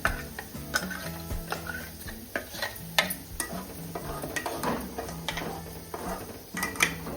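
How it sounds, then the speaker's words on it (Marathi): Ground masala sautéing in a pan for a village-style chicken curry, with steady spoon scraping and stirring clatter against the metal pan, repeated sharp tapping clicks, and a low hum running underneath. "हे आपला आता मसाला आता इथं परतणं सुरू आहे"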